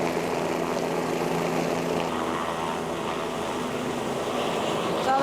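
An aircraft passes over a mining exploration drill site, a steady droning engine roar that holds fairly level throughout, moderately loud with no talking.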